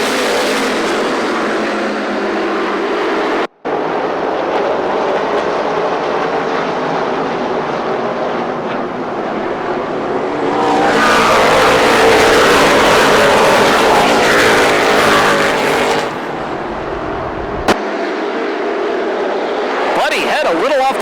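Race cars at Kalamazoo Speedway roar down the backstretch in a loud, continuous engine drone that swells midway, with a commentator talking over the noise throughout.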